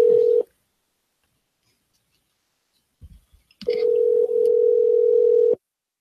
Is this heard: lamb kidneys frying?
no